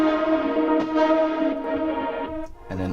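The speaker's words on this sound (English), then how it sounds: "So I added this kind of like synth sound, which is just playing like a droney one note in the background." A synth holds one droning note with a steady buzzy, layered tone, slightly effected and echoing, sustained for a few seconds before a brief change at the end.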